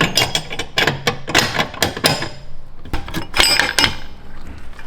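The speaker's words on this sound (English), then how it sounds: "Bushing number one extracted." Metallic clanks, knocks and scraping as an old worn differential bushing is pulled from a BMW, irregular sharp hits and grinding at close range with no voices.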